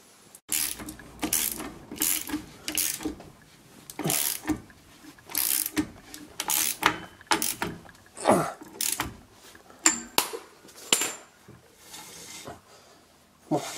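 A new rear left wheel bearing on a 2001 Ford Puma 1.7 is turned by hand, giving repeated ratcheting, mechanical clicking bursts in an irregular rhythm, close and fairly loud.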